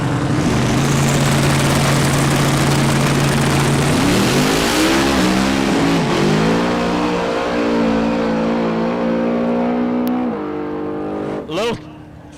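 Trucks launching at a no-prep drag race at Newport Raceway, engines roaring loud and close as revs climb and shift through gears across the run, then fade near the end while a voice talks over the din.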